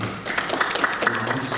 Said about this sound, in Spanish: que lo recibimos con un fuerte aplauso